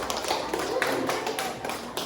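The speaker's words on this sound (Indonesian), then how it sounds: "Beri tepuk tangan untuk kita" Children in a classroom clap together in a quick burst of dense, close-up claps that runs steadily through the short stretch.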